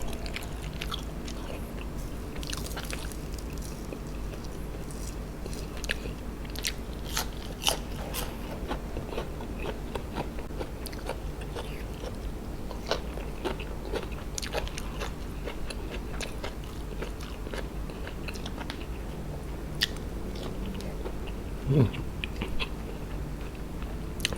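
Close-up chewing of crunchy bamboo shoots at a Thai meal, a long stretch of irregular crisp crunches and bites over a low steady background, with no talking.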